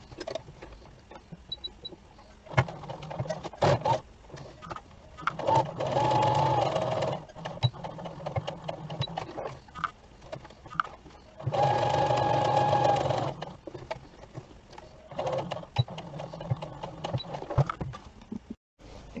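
Sewing machine running a long straight stitch down interfacing on a front bodice and sleeve, heard as two sustained close whirring bursts separated by quieter handling clicks and rustles.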